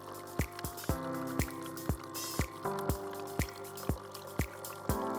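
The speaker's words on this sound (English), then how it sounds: "Mini-Me will start rinsing for another 30 seconds." A Nescafé Dolce Gusto Mini Me coffee machine by Krups runs its rinse cycle, a pumping water flow with rhythmic pulsing throbs about every half second over a steady liquid stream, close and alone.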